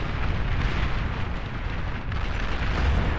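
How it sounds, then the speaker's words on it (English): Artillery bombardment in the strategy game Beyond All Reason, with mobile artillery pieces firing, produces a dense, continuous rumble of overlapping explosions and booms at moderate level, steady throughout with no speech. "On the left, we have artillery bombardment."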